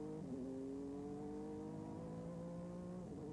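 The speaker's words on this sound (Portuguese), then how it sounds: "Aí você sente a saúde do motor Buick V6 do Indy Lights." A Buick V6 engine in an Indy Lights race car at the 1996 Long Beach race gives a steady, faint droning whine that holds a near-constant pitch under distant track noise.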